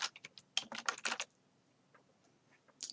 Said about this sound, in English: I'm going to type in my RBMA byline.